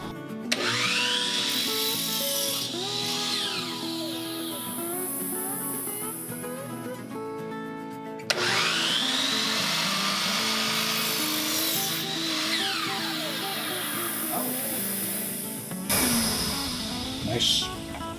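CMT miter saw blade cutting a piece of oak, two long loud whining cuts with the motor spinning up, biting through the wood and winding down, with someone talking between them.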